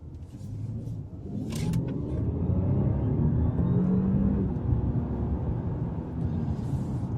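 An Audi A6 Prestige with a twin-scroll turbocharged V6 pulls away, its engine note rising to a steady, close rumble of acceleration with no talk.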